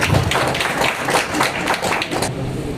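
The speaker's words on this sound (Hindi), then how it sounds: "एक बार जोरदार ताली हो जाए" An audience at an award and felicitation ceremony claps loudly, a dense run of hand claps with repeated swells that tapers off near the end.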